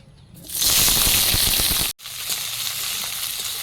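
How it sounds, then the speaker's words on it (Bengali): Eggplant slices hit hot oil with a sudden loud sizzle that crackles densely, breaks off briefly, then settles into a steadier, quieter frying hiss close by. "বেগুনটা আমি ভেজে নিচ্ছি।"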